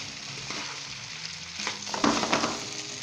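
Green chillies and chopped ginger stirred into an aloo gobhi curry in a pan, a soft steady sizzle with scraping swells of stirring toward the end, fairly quiet and with no voices.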